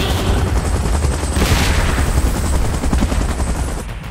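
A helicopter in the PUBG Mobile video game makes a dense, loud, continuous roar, mixed with bursts of gunfire throughout.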